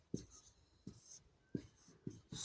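Pen or chalk strokes during a maths lesson, with several short, quiet scratching marks in an uneven rhythm, each a brief tap followed by a soft scrape, close by with no talking.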